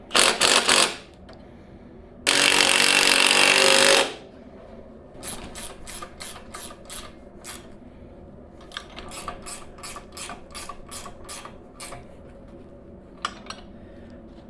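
A ratchet or power tool tightens the bolts on a Royal Alloy GP350 scooter's SLK lowering kit and rear shock mounts. Two long loud bursts are followed by a run of sharp, evenly spaced clicks, all close up with no talking.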